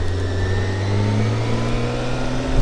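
A 2022 BMW K 1600 GT motorcycle engine cruising in fifth gear at around 1500 rpm and 40 km/h: a loud, smooth, steady low drone with a slight swell near the end, heard close up.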